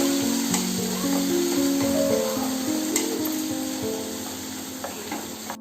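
Tomatoes sizzle in a hot kadhai while kadhai paneer is being made, with a loud, steady frying hiss and light stirring clinks that slowly fade.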